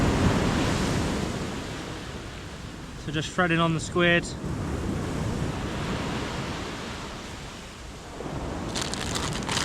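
Waves breaking on a night beach at Pangkor Island, a steady broad wash of surf close by with wind across the microphone, while someone talks briefly over it.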